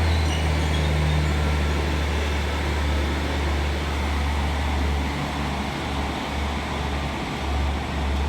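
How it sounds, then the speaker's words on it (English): A Class 150 diesel unit coupled with a Class 153 idles and pulls away from a station platform, a deep steady engine drone with a low rumble throughout, fairly close and loud, no voices. "about to part now is a terminating service from Cardiff Central"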